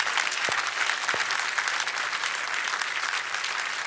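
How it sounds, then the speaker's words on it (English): A church congregation claps together during a worship service, dense continuous applause filling the room at close range, with a couple of sharper single claps standing out near the start. "clap unto the Lord"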